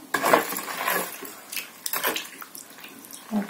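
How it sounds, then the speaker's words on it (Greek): Salt being stirred into water in a kitchen bowl, with splashy swirling and clinking of a utensil against the container in uneven bursts, close and alone. "Το αλάτι μου έχει λιώσει. Θα το ανακατέψω ακόμα λίγο."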